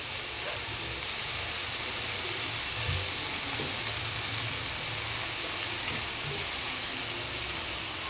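Thinly cut potatoes fry with bitter gourd in a hot pan of oil, giving a loud, steady, dense sizzle with no pauses.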